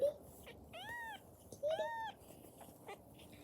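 A stray cat meows twice, two clear drawn-out cries close by, with short silences and faint background noise between them and dogs kept back nearby.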